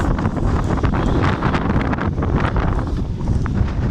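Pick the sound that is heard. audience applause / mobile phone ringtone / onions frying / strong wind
strong wind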